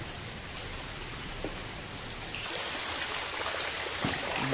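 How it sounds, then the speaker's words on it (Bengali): Water from waterfalls in a canyon rushes as a steady broadband roar, faint and distant at first, then growing louder and fuller midway, with no voices. "ওখান থেকে তো জলের আওয়াজ পাচ্ছি।"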